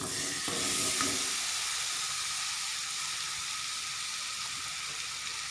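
Ripe papaya added to hot ghee in a pan sets off a soft, steady sizzle with a brief stronger burst near the start, then an even hiss alone.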